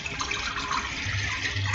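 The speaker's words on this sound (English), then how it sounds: "I'm just going to pour some water in the singing bowl." Distilled water pours from a bottle into a singing bowl, a steady close trickle and splash running without a break and heard alone.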